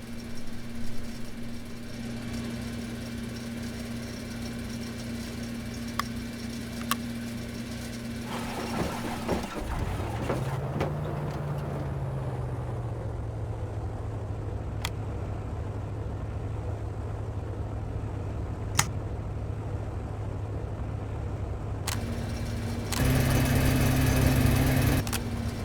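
Aerostar 601P engine starting in the flight simulator X-Plane 11. A steady background hum drops out, the starter whines and the engine catches, settling into an even idle drone, then a louder surge near the end.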